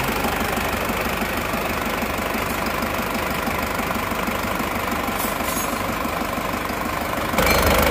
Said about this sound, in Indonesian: Oke, mesin sudah hidup teman-teman.